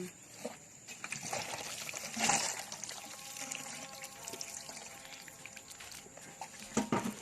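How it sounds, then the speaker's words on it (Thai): Water pours and trickles onto a potted fingerroot plant, a soft continuous splashing with a few louder gushes, close by and without talk. "แล้วก็รดน้ำซ้ำอีกครั้งหนึ่ง"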